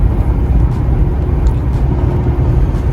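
A rebuilt Ford Fusion on its first test drive, heard as a loud, steady low rumble of engine and road noise from inside the moving car, with no talk.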